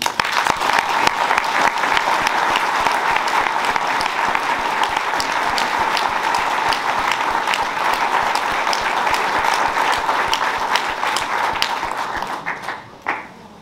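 Sustained audience applause fills a New Year's greetings ceremony hall, a dense steady wash of many hands clapping for about thirteen seconds before tapering off at the end.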